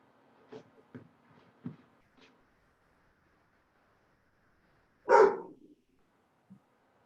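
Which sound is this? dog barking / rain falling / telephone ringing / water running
dog barking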